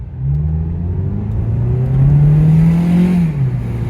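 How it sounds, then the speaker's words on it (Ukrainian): A Mazda 3 with a 2.0-litre petrol engine accelerates from inside the cabin, its engine note rising steadily in pitch as a loud whirring drone. "Вам цікаво, я думаю, як набирає двохлітровий двигунчик у нас розгон."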